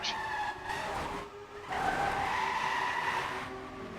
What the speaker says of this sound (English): this time it's Pilesor who will crash at that part